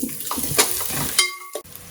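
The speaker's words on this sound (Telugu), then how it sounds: "పచ్చిమిరపకాయలు కూడా చక్కగా మగ్గనివ్వండి" Green chilies fry with onions and ginger-garlic paste in a pan for a mutton and chana dal curry, giving a steady close sizzle with stirring scrapes and a brief clatter of utensils.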